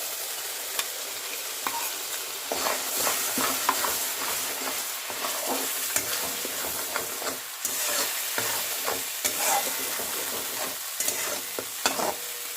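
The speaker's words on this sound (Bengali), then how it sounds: "হালকা করে একটু নাড়াচাড়া করে দিয়ে এবার এর মধ্যে দিয়ে দেব তৈরি করা মশলার পেস্টটা" Spiced masala paste for a vegetarian aloo dum is stirred in a pan, with a steady run of close scraping and shuffling strokes against a soft sizzle and no voices.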